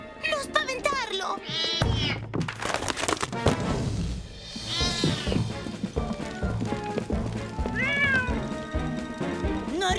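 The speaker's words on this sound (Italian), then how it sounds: "Oh, quel gattaccio mi sta facendo davvero saltare i nervi!" A cartoon cat meows repeatedly in a Sam the Fireman episode, its rising and falling cries mixed with loud crashes, music and excited character voices speaking Italian.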